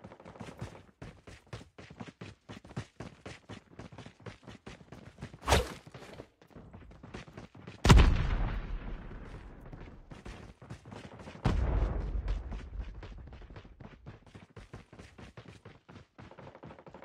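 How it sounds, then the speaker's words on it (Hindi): Gunfire in a Call of Duty Mobile battle royale tournament: rapid bursts of game shots tick steadily throughout, punctuated by a few louder booming blasts with long decays, and no one talks over them. "अभी भी देखो कोई गन यूज कर रहा है."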